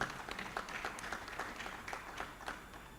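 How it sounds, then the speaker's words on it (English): Steady applause from a town hall audience at an African cassava conference, a dense wash of many hands clapping at moderate level, fairly distant and continuous throughout with no clear voice on top. "A round of applause for them."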